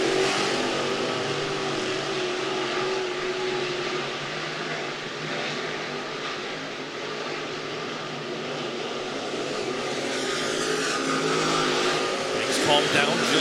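Modified race cars roar around a clay speedway in a heat race, a continuous broad engine drone that swells slightly toward the end, with a commentator talking over it.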